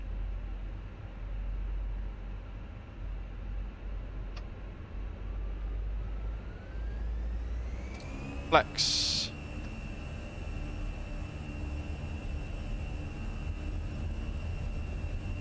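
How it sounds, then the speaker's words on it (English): Jet engines of a Fenix A320 airliner in an easyJet livery spooling up in Microsoft Flight Simulator, a steady low rumble with a slowly rising whine, a brief click and hiss midway, and a short spoken word. "Let's get some engines spooled up."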